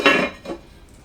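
Lid set down on a cooking pot of Ghanaian turkey berry sauce with spinach, two quick close metallic clanks, the first louder than the second.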